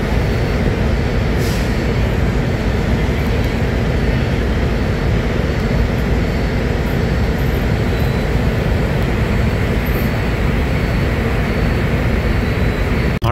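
Steady loud rumble and hiss of an LRT train at a station, a continuous broadband roar with no clear pauses and no voices.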